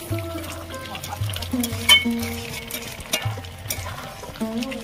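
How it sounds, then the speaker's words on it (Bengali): Bombay duck (lote fish) being stirred and broken up in a pan as it fries dry, with steady scraping and soft sizzle, a background musical tone running throughout, and no voices. "এইভাবে আমি জাল দিয়ে নাড়তে নাড়তে মাছটা শুকনো করে নেব।"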